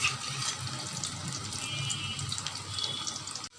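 Moringa leaf pakora frying in hot oil, a steady close hiss and crackle of sizzling batter that holds evenly throughout and cuts off abruptly at the end.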